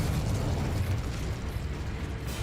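A Confringo spell explodes in the video game Hogwarts Legacy with a dense, rumbling burst of noise that holds steady at a loud level before thinning slightly toward the end.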